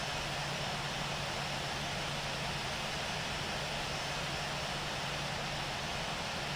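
Airliner taking off in the Infinite Flight simulator, a steady, broadband roar of jet engines holding at an even level throughout, with no voices.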